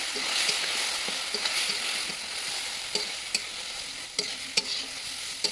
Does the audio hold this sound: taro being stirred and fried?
yes